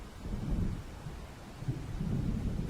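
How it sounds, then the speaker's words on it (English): Thunder of an approaching storm in the video game Alan Wake Remastered, a low continuous rumble that swells and rolls throughout with a faint rain-like hiss and no talk. "It seems there's a storm coming."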